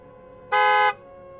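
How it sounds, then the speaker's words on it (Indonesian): A pick-up truck's horn sounds once in front of a house, a single loud, steady toot of about half a second over faint background noise. "Bunyi klakson mobil bak terbuka terdengar di depan rumah."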